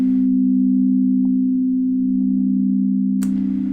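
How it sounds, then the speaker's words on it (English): An ominous sound bowl rings with one steady, sustained tone that holds evenly at close range, with a faint click near the end. "So I'll leave you with this ominous sound bowl."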